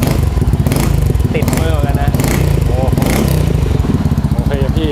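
Honda Forza scooter with an aftermarket exhaust, revved up close at a racing shop, its engine drone steady and loud throughout while people talk over it.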